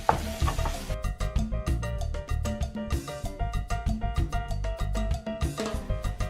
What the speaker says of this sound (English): I think I'm just going to stir these around a bit and get all the beans nice and warm.